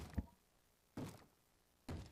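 Three dull knocks on a door in the Minecraft game, evenly spaced about a second apart, each a short muffled thud with quiet gaps between.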